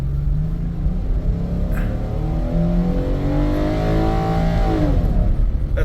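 A car engine revs hard at full throttle and pulls through an accelerating climb, a loud steady drone heard from inside the vehicle on a street in Mexico, after a no-power fault.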